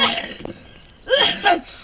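Two short, harsh coughs, close and loud, follow a brief quieter sound.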